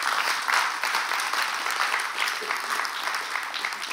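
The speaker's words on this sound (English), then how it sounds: "now clap if that's what you want" Steady applause from an audience fills all four seconds, dense and continuous with no gaps, rising slightly near the start and holding at an even level throughout.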